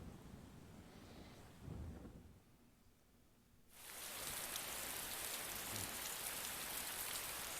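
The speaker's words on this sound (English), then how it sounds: "You can hear it raining outside." Rain pours steadily outside on a stormy night in Persona 4 Golden, soft and muffled at first, then switching abruptly to a loud, dense, hissing downpour that continues to the end.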